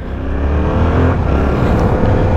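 A Yamaha MT-07 motorcycle with its stock exhaust roars loudly up close, revving and rising in pitch with a rough, continuous throaty growl.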